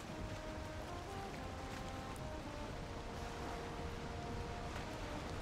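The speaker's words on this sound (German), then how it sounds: "es gewittert jetzt" Thunderstorm rain and wind at sea in the video game Valheim, a steady broadband wash of rain and gusting air with a faint low rumble, unbroken and even in level throughout.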